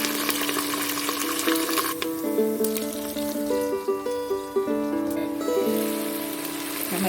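Onion, tomato, curry leaves and green chilli sautéing in hot oil for a mutton kulambu, a steady close sizzle with a bright ringing tone running over it and a few stirring scrapes.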